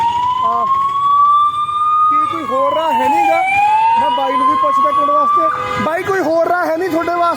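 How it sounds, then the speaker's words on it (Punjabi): An ambulance siren wails loudly and close in a Ludhiana traffic jam, its tone sweeping up and down, then switching to a faster yelp pattern near the end, with traffic noise beneath. "ਹੁਣ ਆ ਐਂਬੂਲੈਂਸ ਆ"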